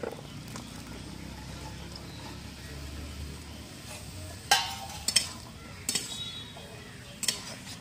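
Cut, washed drumstick stems go into a frying pan of vegetables, bringing a few sharp metallic clinks and knocks of a utensil on the pan over a low, quiet cooking background.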